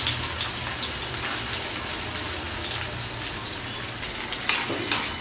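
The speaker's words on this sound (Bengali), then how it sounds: "এবার এর মধ্যে আমি পেঁয়াজটা দিয়ে দিচ্ছি আর মরিচটা দিয়ে দিচ্ছি।" Onion and dried chilli going into hot oil in a kadai, a dense, crackling sizzle that fills the whole stretch, close and fairly loud, with a few sharper pops near the end.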